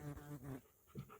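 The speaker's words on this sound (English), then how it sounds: "You see Hound Doggy approaching" A hound dog pants softly in planted pines during a deer hunt, a few quick, faint breaths heard alone and up close.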